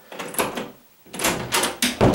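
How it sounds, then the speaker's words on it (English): A door that won't latch is shoved hard, giving a series of loud, close thumps and rattling bangs against the frame, with a brief pause before several more forceful pushes. "I couldn't lock the door because I had to push it in like that"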